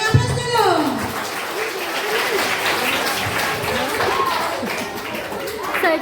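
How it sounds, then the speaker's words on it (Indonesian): A group of students at a school orientation session applaud together in a room. The clapping is sustained and moderately loud, and voices and cheers are mixed in over it. "Oke, beri aplaus dulu."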